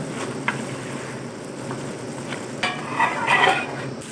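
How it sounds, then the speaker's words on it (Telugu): A brinjal and dried prawn curry is stirred after masala goes in, with close scraping and clinking of a spoon against the pot over a faint simmering sizzle. "మసాలా వేసుకున్న తర్వాత కర్రీని మొత్తం ఒక్కసారి కలుపుకోండి"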